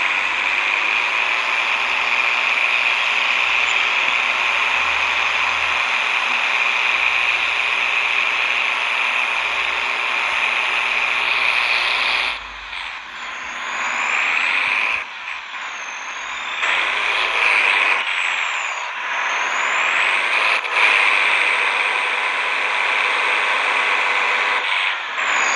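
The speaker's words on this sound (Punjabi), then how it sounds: "ਆਪਾਂ ਮਿੱਤਰੋ ਟਰੈਕਟਰ ਨੂੰ ਅੰਦਰ ਲਾਈਏ" A tractor engine in Farming Simulator 23 drones loud and steady during wheat harvesting, then shifts into rising and falling revs with brief pauses in the second half, with no talking.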